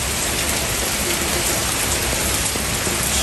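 Heavy rain from Hurricane Ida pours down steadily outdoors, a loud, dense, unbroken hiss of drops hitting surfaces with no pauses.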